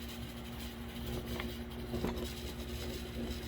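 A rebuilt MDC model Shay locomotive pulling a very heavy car, a steady, quiet mechanical hum with a constant motor whine and a few faint clicks.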